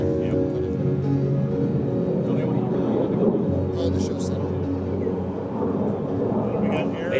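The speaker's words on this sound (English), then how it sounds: "Ladies and gentlemen, from the right, the Super Hornet photo pass." An F/A-18F Super Hornet jet makes a low photo pass at an air show, a loud, steady roar of jet noise that fills the whole stretch, with a voice faintly audible beneath it.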